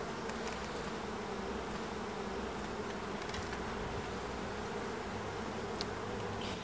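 Honey bees swarming over honey-oozing frames in an open hive, a steady, thick buzzing drone from many insects close by, with a few sharp clicks and no speech.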